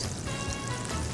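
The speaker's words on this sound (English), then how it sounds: "Yeah, it's sizzling now." Fried chicken sizzles in hot oil on high heat with a dense, steady crackle and hiss that is fairly close and continuous, with no talk over it.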